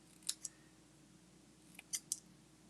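Scissors snip through paper card stock to cut flag-shaped ends on a pop-up Christmas tree card, giving several short, crisp cuts in two quick pairs over a quiet room background.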